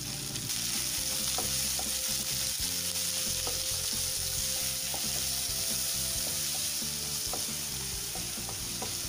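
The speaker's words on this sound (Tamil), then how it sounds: "வெங்காயத்தை நல்லா ஃப்ரை பண்ணிக்கலாம்" Onions fry with green chillies and curry leaves in a pan, giving a loud, dense, continuous sizzle with regular light taps and scrapes from stirring and no voices over it.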